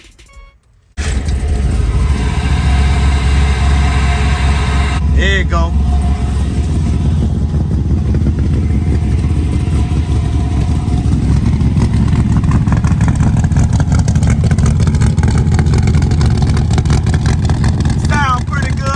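An LS-swapped 1972 Chevrolet Impala cranks and fires up after a moment of quiet, then settles into a loud, rough, steady idle with revs through small exhaust pipes, close by, with a brief spoken comment over it.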